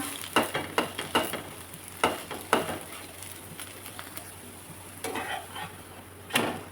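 A gram-flour dhirde pancake roasts on a pan under a low, steady sizzle, with several sharp taps and scrapes of a spatula against the pan at irregular intervals, close and fairly quiet.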